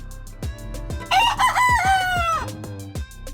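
A Polish crested chicken, a breed from the Netherlands, crows once in a loud, drawn-out call that rises and then falls away, over a steady background of music.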